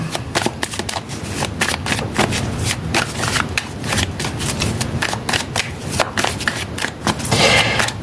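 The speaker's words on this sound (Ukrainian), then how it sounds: "Доки я тасую колоду" A tarot deck shuffles in quick, crisp riffles, a rapid rustling and flicking that repeats steadily, close up, with no voices.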